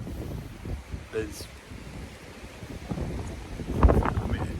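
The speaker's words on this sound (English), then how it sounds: "Saying that I'm outdoors though, so it's a lot of wind." Strong outdoor wind buffets the microphone in broad, low rumbling gusts, swelling louder toward the end, with a voice speaking faintly underneath.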